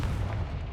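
A fire-blast spell explodes in a Hogwarts-style wizarding video game, heard as a short, heavy, low rumbling boom that holds steady and fades out within a second.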